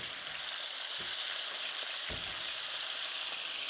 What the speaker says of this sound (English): He's about ready to flip. And fry off the other side.